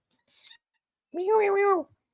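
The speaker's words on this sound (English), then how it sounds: "My cat is getting demanding." A demanding house cat gives a single drawn-out meow close by, following a brief faint rustle, with silence around it.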